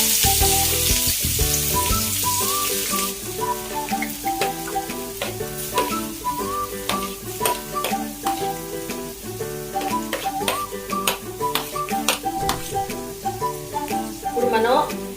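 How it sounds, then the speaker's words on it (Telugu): Chopped onions and green chillies hit hot oil for egg pasta, sizzling loudly at first and then frying steadily under background music. "ఆయిల్ హీట్ ఎక్కిన తర్వాత మనం ఉల్లిపాయలు, పచ్చిమిరపకాయలు అనేది వేసుకుంటుంది."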